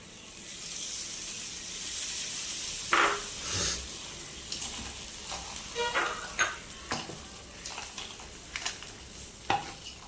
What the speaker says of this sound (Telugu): ఇప్పుడు దీంట్లోనే నిమ్మరసం వేసేస్తున్నా.